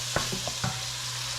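Ground meat browns in a hot pan for chili, a soft steady sizzle broken by a few quick scrapes and clacks as a utensil breaks it up.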